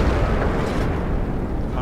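A T34 tank firing its cannon in World of Tanks, a loud low boom with a heavy rumbling tail that fills the short moment.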